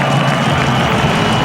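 A stadium crowd at a rugby test between Australia and South Africa roars in a dense, continuous wash of cheering, loud and sustained throughout.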